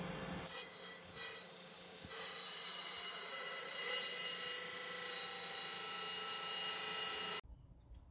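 A handmade massive battle axe, styled on World of Warcraft, is sharpened, giving a steady, bright grinding whine with a few scraping bumps that runs for about seven seconds and then cuts off abruptly.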